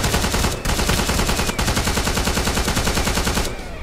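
A machine gun in Minecraft fires rapid continuous bursts, loud and dense, with brief pauses between strings of shots and no talk over it.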